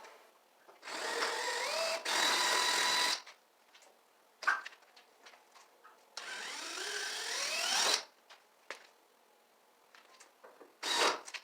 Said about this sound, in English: I think the first thing I'm going to do is drill out those pop rivets now